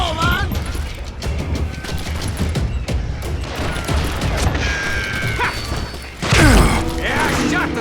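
Gunshots in the Call of Juarez: Gunslinger western shooter, scattered sharp cracks amid game sound effects and voices, with a heavier burst of noise near the end.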